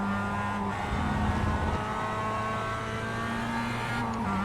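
Race car engine from a production car in the iRacing sim at Lime Rock Park, a sustained droning whine held near constant with small pitch shifts, loud and close with no talk.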